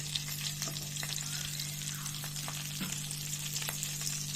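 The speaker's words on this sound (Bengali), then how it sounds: "হালকা ভেজে নেব" Steady crackling sizzle of chopped onions, whole cumin and green chillies frying in oil, with faint scattered pops and a low constant hum underneath; no talking.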